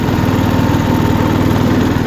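A small-engine off-road vehicle fitted with a quiet muffler chugs loud and close while rock crawling, a steady low droning putter with no speech.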